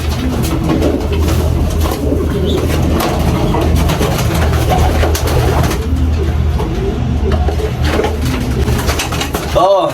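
Pigeons coo repeatedly close by, their soft throaty calls layered over a busy background with a faint engine hum.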